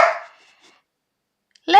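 A dog barks indoors: one sharp bark fades out, then a stretch of near silence, then a second loud bark cuts in at the end.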